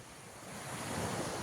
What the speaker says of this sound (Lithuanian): Ne vakaras, bet ankstus rytas prie Juodosios jūros čia Sozopolio kurorte.